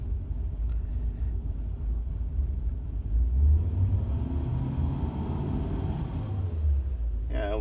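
The engine of a 2004 Toyota Tundra rumbles steadily and rises slightly as it is revved to about 2,000 RPM, a low, continuous drone heard from nearby.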